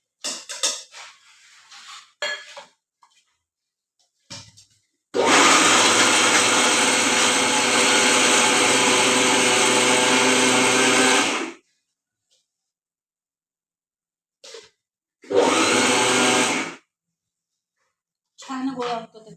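A kitchen mixer blends grated jaggery for gul poli filling in loud, steady bursts, one of about six seconds and a shorter second run, with someone talking in between.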